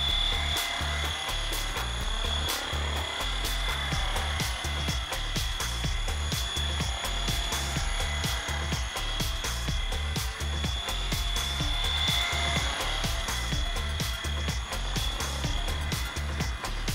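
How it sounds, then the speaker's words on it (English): An electric motor drives a model helicopter with a single half-length rotor blade and a NOTAR system instead of a tail rotor, producing a steady, loud, high-pitched whine with a rapid rhythmic chop throughout. "You notice the electric motor makes more noise than the blades."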